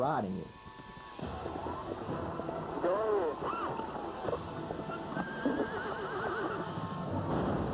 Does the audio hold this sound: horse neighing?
yes